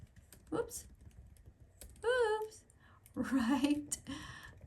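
Someone types a comment on a computer keyboard, with soft, scattered key clicks under a voice and brief tonal sounds, all fairly quiet.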